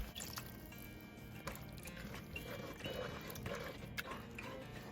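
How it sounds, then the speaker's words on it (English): Water poured from a cup into a simmering pot of vegan pot pie filling, a quiet trickling and dribbling splash close up with soft liquid drips. "I do want to add a little bit more water"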